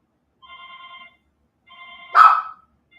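A telephone rings in two short electronic bursts, followed by a brief louder burst of noise; no talking.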